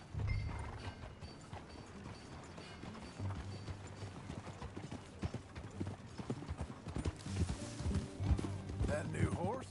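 Horse hooves clip-clop at an easy walking pace, with creaking tack and people talking nearby.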